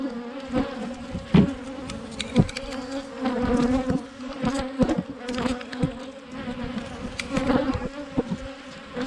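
Honey bees buzz loudly and close around hive frames as a few are shaken into new nucs, their drone rising and falling with bumps and knocks from handling.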